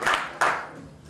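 Church congregation clapping during a sermon: two short bursts of hand claps, the first near the start and a second stronger burst a moment later, fading out afterward, with no talking over them.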